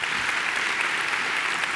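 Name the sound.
applause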